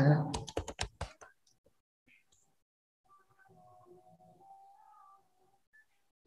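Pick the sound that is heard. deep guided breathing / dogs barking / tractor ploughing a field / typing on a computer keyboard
typing on a computer keyboard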